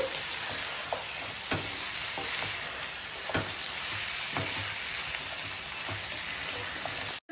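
Curry leaf chicken pieces coated in ginger garlic paste fry in oil with a continuous dense sizzle and scattered light pops and stirring taps throughout, close and unbroken by speech.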